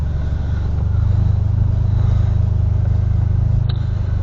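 A manual car creeps away in first gear with no clutch, its engine holding a steady, loud low hum throughout with little change in pitch, and one brief clink near the end.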